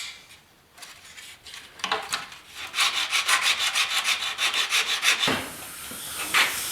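Plastic repair compound mixed by hand for fixing a cracked plastic grill on a 1972 Ford short box pickup, heard as a steady run of close scraping and rubbing strokes that build in the middle and ease off.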